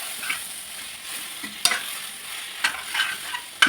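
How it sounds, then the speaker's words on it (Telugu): Tomato puree stirred into frying chicken masala in oil, a soft continuous sizzle with occasional scrapes and light clinks of the spoon against the pan. "టమాటా ప్యూరీ వేసాను. కలపెట్టుకోవాలండి."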